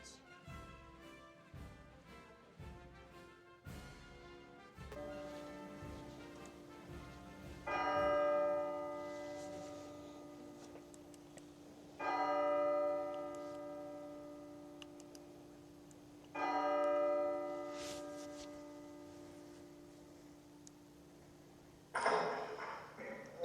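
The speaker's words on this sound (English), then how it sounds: "The tolling of the State House bell" The State House bell in an Independence Hall replica tolls slowly, each deep, ringing stroke swelling loudly and lingering before the next, with a brisk ticking clock-like pattern at the start and a sharp final strike.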